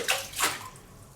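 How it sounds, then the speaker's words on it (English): A rock dropped into a water-filled mechanic's pit in a granary garage gives two quick splashy bursts, the second fading into a short watery trickle, close and moderately loud with no talk. "I'll just drop a rock in there for the hell of it."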